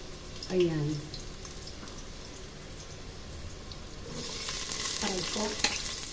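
Garlic and ginger sauté in a pan, a steady soft sizzle and frying crackle throughout, growing louder and brighter near the end, with someone talking over it.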